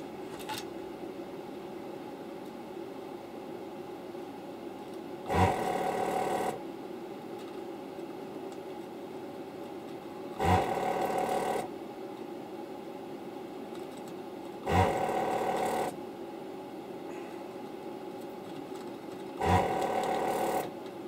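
Desoldering station vacuum pump during repair of an HP 8903A audio analyser, with a steady mechanical hum throughout and four short louder bursts of pump suction spaced about five seconds apart.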